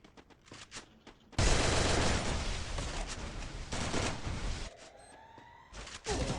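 Sustained automatic gunfire in the Free Fire video game, loud dense bursts that roar for several seconds after a few scattered single shots, followed by a tonal game effect and another burst.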